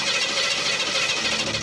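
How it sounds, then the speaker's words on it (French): A carburetor engine running on alcohol roars steadily at high revs, a loud, dense mechanical drone with no pauses and no voices. "C'est parti pour de l'alcool dans un moteur à carburateur"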